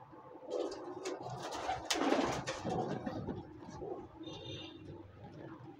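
Sialkoti rooftop pigeons coo repeatedly at close range amid a busy rustling background, with a faint higher chirp briefly near the end.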